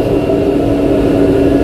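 MRT train at an underground station, a loud steady low rumble with a sustained tonal whine over it, continuous and close, with no talk.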